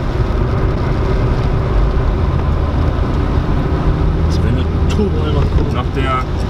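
A VW Lupo 1.8T GT30 tuned to 335 PS pulls hard in third gear, its engine a dense, steady roar that fills the cabin throughout, with faint wind and road noise mixed in.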